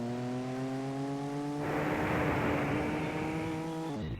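A Volkswagen Golf in a video game holds a steady harmonic engine drone that swells into a louder roar, likely shifting gear at high speed, then drops away abruptly near the end with no voices.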